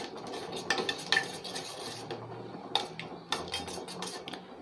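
Spoon scraping and clinking against a bowl as a hair oil mixture is stirred over a double boiler, uneven bursts of metallic taps and scrapes close by, with no one talking.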